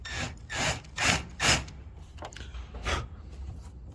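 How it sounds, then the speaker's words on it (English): A 1/4-inch drill bit grinds against hole edges in short, rasping chamfering strokes, about six passes with brief pauses between them, close and fairly loud. "A 1/4 drill bit, and this is what I'm going to use to soften the edges."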